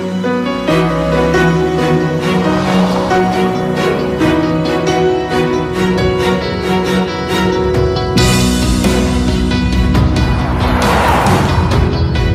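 A car engine revs high and roars steadily for several seconds, with rising and falling pitch as it accelerates and shifts, loud and close, with an added burst of noise near the end that could be tyre squeal.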